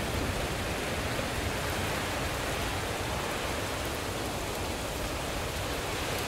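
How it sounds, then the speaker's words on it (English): Dense, unbroken rain roars evenly throughout a thunderstorm, a loud wash of water with no voices and no distinct thunder. "Let the thunder rumble and the raindrops fall"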